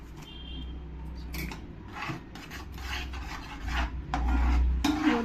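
Black pepper ground by hand into a white pasta sauce in a home kitchen, heard as a steady dry rasping grind in repeated close bursts with no talk.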